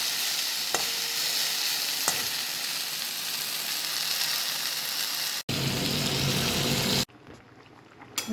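Jute leaves fry and sizzle steadily in a pan while being stirred, with a couple of scraping taps early, then the frying drops abruptly to a quieter level near the end.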